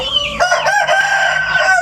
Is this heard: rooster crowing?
yes